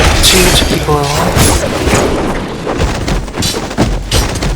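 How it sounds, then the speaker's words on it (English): Loud, dense rumbling blasts and crashing booms from artillery explosions in the Marvel Ultimate Alliance 2 video game, continuous and heavy, with voices speaking over the battle noise. "They have more artillery ahead."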